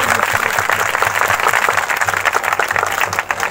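A congregation at a live healing prayer meeting claps loudly and continuously, a dense close-up patter with a low musical hum underneath.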